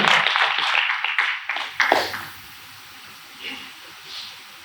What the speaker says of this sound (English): can I please request everybody to give a round of applause